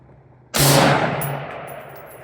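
A rifle bullet strikes a distant steel silhouette target at long range, giving one sharp metallic clang that rings and slowly fades over about two seconds, alone with no talk.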